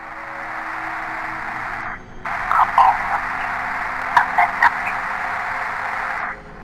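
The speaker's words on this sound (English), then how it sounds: "It was hard to make out through the static, but Lucy managed to piece together the sent" Crackly static over a phone message plays as a steady band of hiss, cut out briefly near the two-second mark, with faint garbled blips and chirps poking through the noise before it drops away at the end.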